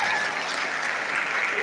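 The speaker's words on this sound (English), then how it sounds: "Please, a round of applause for the proud families." An audience at a medical doctors' induction ceremony applauds the proud families, a steady, moderately distant wash of clapping throughout with no break.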